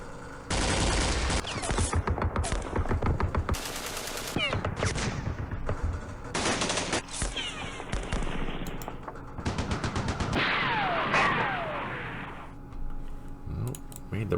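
Heavy weapons fire in the Campaign Series Middle East wargame during the Battle of Jerusalem, with loud rattling machine-gun bursts and volleys in several separated clusters, some sharp single cracks and a whooshing tail near the end.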